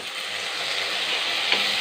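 Chopped tomatoes cooking over sautéed onions in a hot pan for a potato poriyal, a steady bright hiss of frying with a small pop near the end, no talking.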